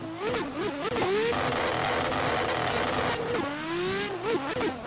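A Nissan R33 drift car in a racing video game revs hard near the red line, with a loud sustained engine whine that rises and falls through quick gear-like wobbles and stays high between them.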